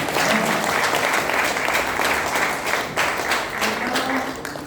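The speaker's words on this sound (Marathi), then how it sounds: "सोलापूरचा बुलंद आवाज शामराव वाघ सरांसाठी जोरदार टाळ्या" A crowd claps vigorously for speaker Shamrao Wagh, a dense, continuous round of applause from many people that stays loud and steady throughout.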